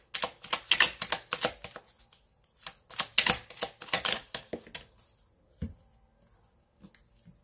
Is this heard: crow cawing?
no